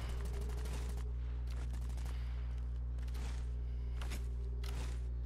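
Gunfire in Call of Duty: Modern Warfare comes in several sharp, rattling bursts over a loud, steady low drone.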